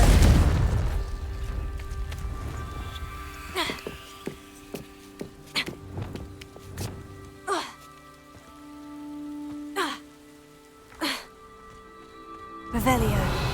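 Confringo blasting spells go off in Hogwarts Legacy, sharp booming bursts landing at irregular intervals, about half a dozen in a row, each with a short crackling tail over a soft rain-like ambience.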